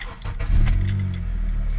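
A 2004–08 Acura TSX engine fitted with a short ram intake cranks briefly and catches, settling into a loud, steady idle close by.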